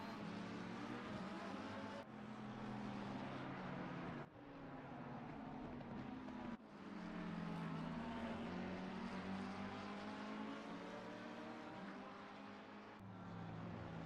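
Race cars at Indianapolis in the video game Assetto Corsa Competizione, a loud continuous engine roar with shifting pitch as several cars pass, with brief gear-change dips.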